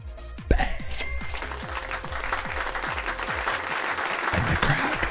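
A crowd breaks into loud applause at a live day-trading stream, dense clapping starting abruptly and continuing steadily throughout, with no talk over it.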